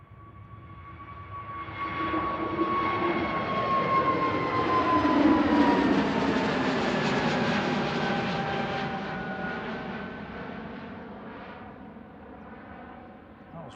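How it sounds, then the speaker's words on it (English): An EasyJet Airbus A320neo departing Manchester Airport for Belfast builds into a broad engine roar with falling whining tones, peaks near the middle, then fades slowly as it pulls away. "EasyJet A320 Neo heading off to Belfast."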